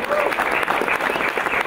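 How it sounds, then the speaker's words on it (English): Audience applause greets a young cyclist being introduced at a Tour du Rwanda team presentation, a dense, steady burst of clapping from a crowd. "A round of applause. Continue applauding."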